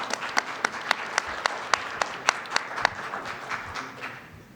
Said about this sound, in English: Let's give another round of applause for Brenda and Reggie.